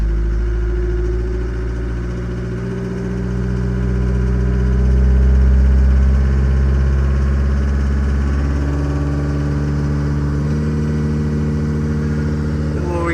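A forestry mulcher's engine holds a steady mid-pitched idle, then swells in a smooth rev-up toward 2,250 RPM and settles into a loud, constant drone heard up close from the cab.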